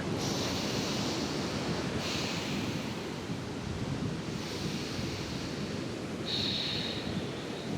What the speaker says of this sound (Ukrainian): Це буде дуже шумний вдих через ніс і дуже шумний видих.